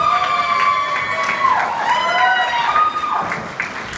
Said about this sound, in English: Alan, give it up. The crowd goes wild.